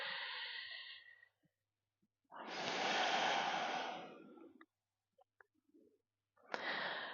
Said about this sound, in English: And breathing 3 rounds of breath here as well.